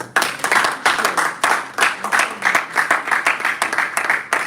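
Clapping from a Toastmasters club audience gathered at a Lagos hotel, honoring a toastmaster, coming in uneven waves of moderate crowd applause that swell and dip over a few seconds.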